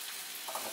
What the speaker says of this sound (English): the first thing into the oil is onions